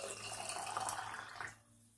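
Water pours steadily into canning jars while black-eyed peas are prepared for a canner, a close splashing stream lasting over a second before it stops and goes quiet.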